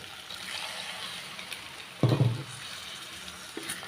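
A small splash of water from a rinsed mixer jar is poured into simmering potato paya curry, a brief close pour over the steady sizzle of the pan.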